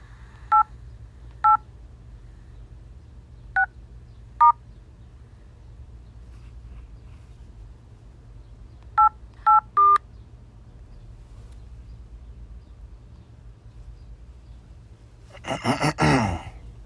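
Telephone keypad touch-tones entering an extension on an automated phone menu: several short, clear beeps in two clusters, a few spaced apart, then three quick ones, over a low line hum, followed by a brief burst of noise at the end.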